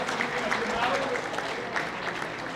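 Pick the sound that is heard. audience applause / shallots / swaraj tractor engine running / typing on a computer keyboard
audience applause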